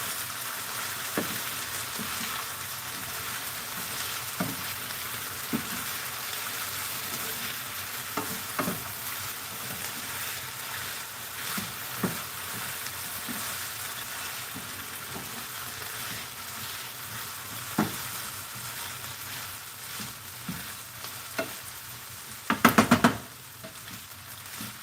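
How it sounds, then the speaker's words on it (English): Onions and potatoes fry and brown on a stovetop with a continuous low sizzle, punctuated by scattered spatula scrapes and taps, then a short cluster of louder knocks near the end; no one talks. "Got my onions and potatoes cooking. See what's going on. They're browning."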